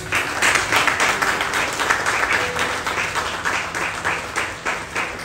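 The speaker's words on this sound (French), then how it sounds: "So through your round of applause" Audience applause at a bilingual religious gathering, a loud, sustained wash of many hands clapping with a rhythmic pulse throughout.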